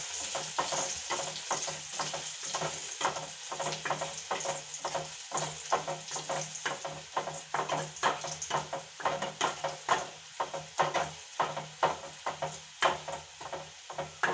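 Dried red chillies sizzle and crackle steadily in hot oil for a murungakkai and jackfruit-seed curry tempering, with frequent sharp pops and occasional stirring scrapes close by, loud and continuous with no talking.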